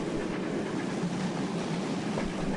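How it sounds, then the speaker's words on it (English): A train rolling over a viaduct on the Sodor Railway, a steady low rumble of wagons that holds even and continuous throughout, with no voices. "All Butch could do was sit and listen to the trains go by on the viaduct."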